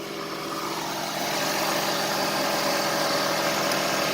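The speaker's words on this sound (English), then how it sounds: "I can lift up my car." Air suspension compressor on an Audi A8 L running to lift the car, a steady, broadband mechanical hum that holds even and slightly builds throughout, with no talking.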